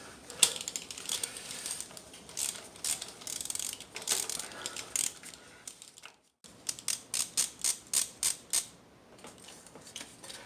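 A ratchet wrench loosens spark plugs on a 2010 Nissan Sentra engine, giving close, crisp ratcheting clicks in an even run of about seven strokes after a brief pause, with softer mechanical handling noise before.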